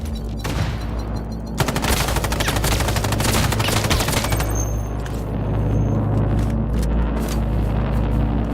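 Rapid automatic gunfire from a weapon in the Islands of Nyne shooter game, a dense sustained burst of shots rattling loudly and continuously with booming low rumble throughout.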